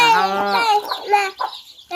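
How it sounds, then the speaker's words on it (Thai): Chickens eating rice cluck and squawk at close range in a brief, busy flurry of overlapping calls with short gaps between them. "ไก่กินข้าว"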